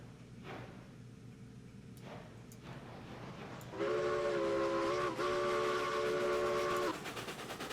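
A steam locomotive whistle in the Railroads Online video game blows a sustained chord-like toot for about three seconds with a short break, over a low steady hiss and rumble.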